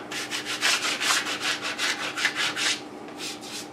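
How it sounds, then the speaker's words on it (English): A plastic auto body scraper rubbed back and forth over a wooden sign to clear burrs, a rhythmic series of about a dozen close, raspy strokes, evenly paced and without talking. "Plastic scraper, usually used for auto body. I'm going to clean up all the little burrs off of here."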